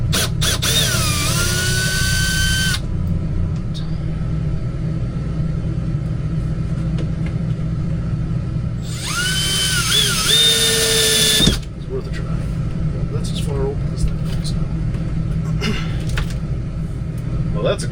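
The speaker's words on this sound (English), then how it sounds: "Drill some more screw holes in this bed frame." A power drill bores screw holes into an RV bed frame in two loud whining bursts with a quiet gap between, over a steady background rumble and a person talking.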